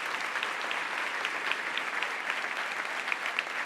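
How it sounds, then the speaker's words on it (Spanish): A church congregation applauds during a Spanish-language sermon, a dense, even wash of clapping that holds steady throughout without any voices. "Y dele un aplauso grande a su Dios que va a ganar."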